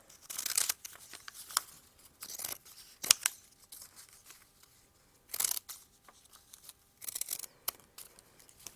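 Scissors snipping letter shapes out of old denim jeans for a raw-edge pillow, heard as bursts of crisp cutting and crunching fabric with short pauses between, close and fairly quiet.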